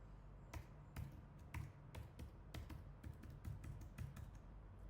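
A computer keyboard clatters close by as a password is typed in, with a quick run of crisp keystrokes in uneven bursts over a low background hum.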